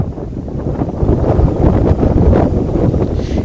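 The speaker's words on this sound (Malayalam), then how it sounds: "ഈ സഹ്യപർവ്വതത്തിൻ്റെ കീഴിൽ നിന്ന് ഇങ്ങനെ അടിച്ചു വരുന്ന ഈ കാറ്റ്" Monsoon wind sweeping down from the Sahyadri mountains across paddy fields, roaring steadily and loudly against the microphone as a continuous low rumble with no voices.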